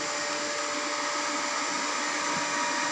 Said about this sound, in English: Adjust the speed of the DC motor.